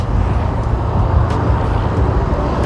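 Road traffic rumbles close by with steady low engine drone from passing cars, a continuous dense noise bed with brief faint higher hiss accents and no talking.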